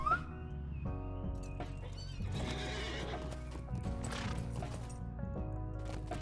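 A horse in The Lord of the Rings video game gives a loud whinny up front, followed by steady clip-clop hoofbeats and further neighs over a musical backdrop.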